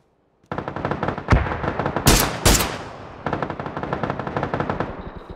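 SCAR-L assault rifle fire in PUBG, rapid close automatic bursts with a couple of sharp louder explosive cracks mid-sequence, continuing as steady loud volleys without speech.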